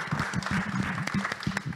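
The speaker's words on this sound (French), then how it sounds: "Merci de l'applaudir, s'il vous plaît." An audience at a business startup event applauds a speaker as she is introduced. The hand claps sound brief and fairly faint, a scattered patter of claps with a murmur of voices beneath.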